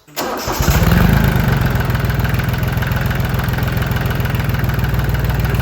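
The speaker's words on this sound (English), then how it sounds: "And now I will start the tractor." An Iseki TU2100 tractor engine with a fuel pump issue cranks and catches, then settles into a loud, steady chugging idle nearby.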